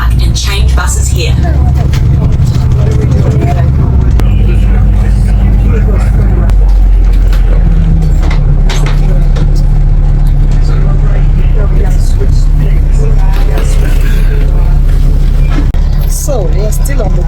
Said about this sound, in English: So we are still on the tour bus.